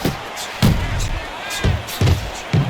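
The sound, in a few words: punch combination landing in boxing video game Fight Night Champion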